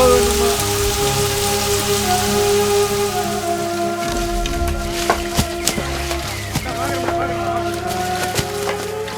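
Heavy rain pours down steadily over a rural grove and crop fields, a dense, continuous hiss of drops drumming on surfaces. It stays loud and even throughout, with no voices.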